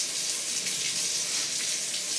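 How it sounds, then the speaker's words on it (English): Kitchen tap running for hand washing, a steady, close hiss of flowing water that holds level throughout with no talking. "Please, can I wash my hands, please?"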